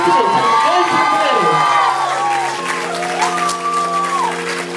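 Wedding banquet audience applauding and cheering for Miki and Anthony, a steady loud wash of clapping mixed with excited voices and shouts, with tonal sounds running underneath throughout.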